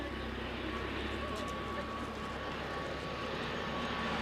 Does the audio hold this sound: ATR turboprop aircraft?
yes